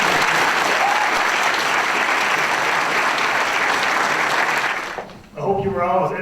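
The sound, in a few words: audience applause at a school banquet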